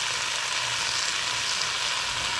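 Cooking oil, olive oil, sizzling in a hot, dry-bottomed pot while a deer roast is being made: a steady, loud, hissing fry that continues without pause, no talking.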